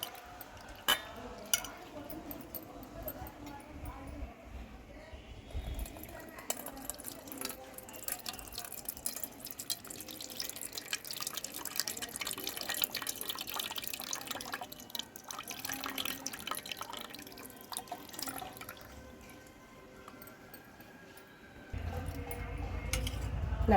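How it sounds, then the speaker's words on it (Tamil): Soaked tamarind is squeezed and strained in water for a village-style tomato rasam, giving soft wet sloshing and trickling drips, close but faint, with quiet kitchen clatter. "இதை கரைச்சி நல்லா ஒரு புளி அந்த சக்கையெல்லாம் இல்லாமல் நல்லா வடிகட்டி எடுத்துக்கலாம்"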